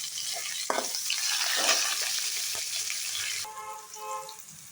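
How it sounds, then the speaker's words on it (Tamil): Onions and curry leaves frying in hot oil in a pan, a bright continuous sizzle with a few stirring knocks, fading slightly toward the end as the crackle settles. "இப்போ வெங்காயமும் கருவேப்பிலையும் போட்டுட்டேன்."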